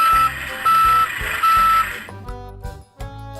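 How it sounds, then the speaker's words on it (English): A delivery truck carrying construction materials backs up at a construction site, sounding three loud, evenly spaced reversing beeps before the tone stops and engine rumble and clunks continue. "It gives a warning sound as it backs into position."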